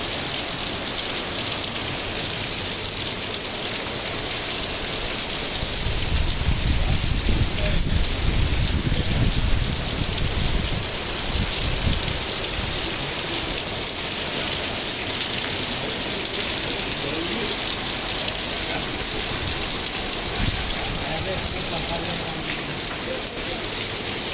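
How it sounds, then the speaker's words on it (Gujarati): Heavy rain falls steadily in Talaja, Gujarat, heard from a shop front: a constant dense patter on surfaces that swells louder for a few seconds in the middle, then settles back to a steady downpour. "વરસાદ પડી રહ્યો છે"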